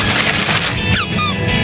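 In a Ben and Holly's Little Kingdom cartoon, a squeaky toy given as a birthday present lets out a few short, high squeaks over a busy, lively background.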